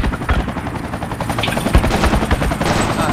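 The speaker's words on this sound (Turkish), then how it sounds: "Helikopter geliyor, düşman helikopteri buraya indirelim yapabilir." An enemy helicopter arrives amid gunfire in the military shooter game Project Reality, with a steady rotor chop under repeated loud gunshot bursts, close and dense throughout.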